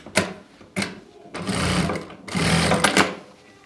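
A sewing machine stitches a salwar's belt onto elastic in short, close bursts of rapid whirring, separated by brief pauses and clicks.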